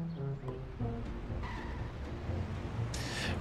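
Car tires skidding and squealing in The Simpsons Hit & Run video game, with game engine noise and music running steadily throughout and a brighter screech bursting near the end.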